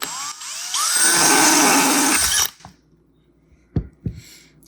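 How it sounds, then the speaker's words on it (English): A small rotary drill bores a tiny hole in a horse conch shell, a steady high-pitched whine lasting about two seconds before cutting off, followed by a few faint clicks and quiet handling. "We're going to drill a tiny hole to start to see."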